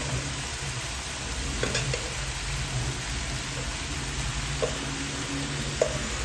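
Basmati rice stir-frying in a pan for Filipino-style fried rice, a steady close sizzle with faint scraping of a spatula, even and continuous with no talking.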